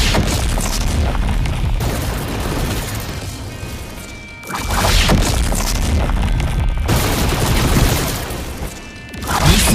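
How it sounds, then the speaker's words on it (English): A lightning dragon ability strike in a video game, with deep rumbling booms and crashing blasts in loud, dense waves, swelling and fading twice over a constant roar. "watch as I use the third Z ability, the Z3 Dragon, in the same way"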